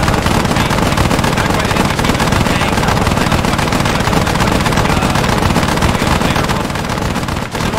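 Gunfire in ARMA 3 (SOG Prairie Fire), a dense, continuous rattle of rapid machine-gun fire, loud and close, with no pause across the stretch.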